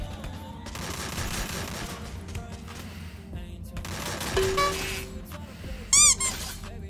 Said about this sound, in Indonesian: ditembakin dari segala arah guys